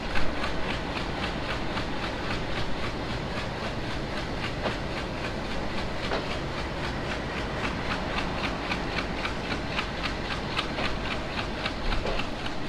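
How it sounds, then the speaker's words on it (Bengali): A Nakshikantha commuter train runs at night on the Khulna to Dhaka line, giving a steady, continuous rumble with rhythmic clickety-clack of the wheels throughout. "ট্রেন চলতে শুরু করেছে"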